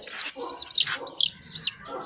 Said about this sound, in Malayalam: ഒരു കോഴിക്കുഞ്ഞിനെ വെള്ള കോഴിക്കുഞ്ഞിനെ അങ്ങ് എടുത്തു